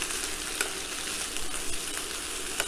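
Asparagus and broccoli frying in a pan with fresh lemon juice, a steady close sizzle with faint stirring clicks running throughout.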